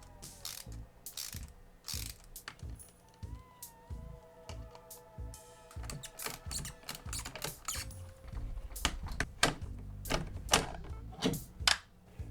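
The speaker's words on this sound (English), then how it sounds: "I'm using some M4 nuts and bolts in order to mount this thing" Ratcheting, clicking mechanical bursts from M4 nuts and bolts being tightened to mount a PC fan for a DIY USB-C desk fan, close and fairly loud, coming in irregular runs with short pauses.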